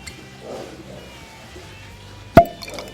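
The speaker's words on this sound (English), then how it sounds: "That's probably the best cork pop I've ever had, except maybe on champagne." One sharp, close pop as the cork comes out of a bottle of Keeper's Heart Irish American whisky, set against a quiet room with low background noise.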